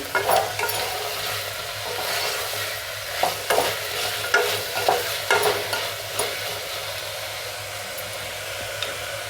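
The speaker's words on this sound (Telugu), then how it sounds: "తగినంత సాల్ట్ ఒకసారి బాగా కలుపుకున్నాము" A spoon scrapes and stirs tomato pieces and salt through a pan of little millet (samalu) khichdi, with steady strokes and a soft sizzle underneath; no voices.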